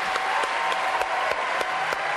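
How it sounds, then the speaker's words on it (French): Studio audience applause on a French TV variety show, a dense, even burst of clapping that stays loud and steady for a couple of seconds. "Applaudissements pour ce monsieur"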